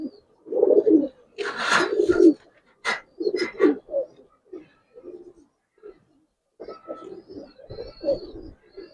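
A silver Giribaz pigeon, a hen, coos close up in a series of soft, low throaty bursts with short pauses between them.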